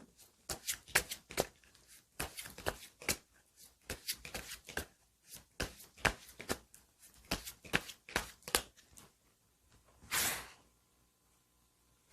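Tarot cards shuffled and drawn in a quiet room, a rapid run of crisp riffling flicks and snaps through most of the stretch, ending in one louder sustained rustle near the close.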